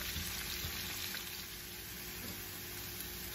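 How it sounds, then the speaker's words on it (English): One medium chopped onion frying in a pan for a restaurant-style malai kofta, a steady, bright sizzle with faint stirring scrapes, close and even throughout with no talking. "I'm going to fry these onions for a minute,"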